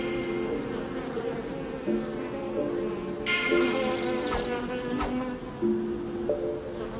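Honeybees buzz around hives that produce rosemary and heather honey in Corrence, a dense, steady drone of many wings with individual bees passing close by at varying pitch.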